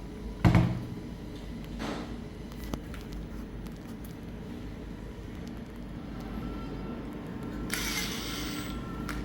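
Small screws being driven slowly into a Venturi nozzle head for a sandblasting setup, heard as a sharp click near the start, faint intermittent mechanical ticks and clicks, then a brief hissing scrape near the end, over steady low room noise.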